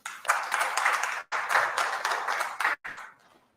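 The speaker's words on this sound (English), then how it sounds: "let's give a warm hand of applause to Ms." A community dialogue audience claps to welcome a presenter, with two bursts of brisk applause broken by brief gaps before it fades out, fairly close and clear with no talking.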